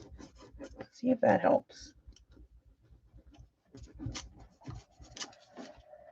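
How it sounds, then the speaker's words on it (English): A bone folder is rubbed and scraped across paper in a scrapbooking craft session, giving short scratchy strokes and a burst of louder rasping, with a person talking through much of it. "Why don't we try the bone folder."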